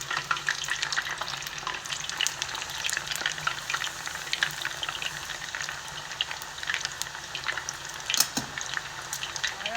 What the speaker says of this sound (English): I'm gonna let these fry until they're golden brown.